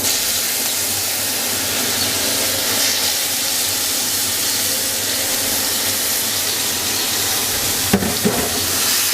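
Chopped carrots frying in ghee with cardamom and cinnamon give a steady, even sizzle that runs through the whole stretch without talk, with a brief stir or clatter near the end.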